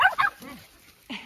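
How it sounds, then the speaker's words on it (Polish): Dogs play-fighting on an after-work walk give a few short yips and growling barks in quick bursts, then a brief pause before another yelp, fairly close and moderately loud. "W trakcie odbywają się walki psów."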